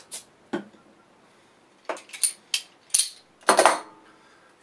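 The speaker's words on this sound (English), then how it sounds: "So let's get the cap off of this one." A bottle cap pried off a 7% Hitachino Nest Espresso Stout beer bottle from Kiuchi Brewing, heard as a few sharp metallic clicks and scrapes spread over several seconds, close and fairly clear, with no talk.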